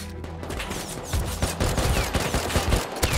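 Gunfire in a survival video game, dense rapid bursts of shots crackling continuously over a couple of seconds, loud and close, with no speech.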